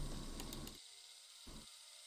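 A motorized toy train in Reveil whirs faintly, a soft mechanical grinding buzz that runs briefly, stops, then gives a second short burst in an otherwise quiet space.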